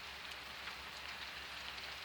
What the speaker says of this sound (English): Having a nice gentle rain.